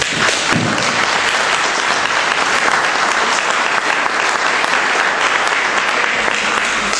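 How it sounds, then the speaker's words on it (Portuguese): Dense, loud applause from a congress audience, continuous clapping filling the hall without pause. "eu gostaria de celebrar com uma salva de palmas da vossa parte"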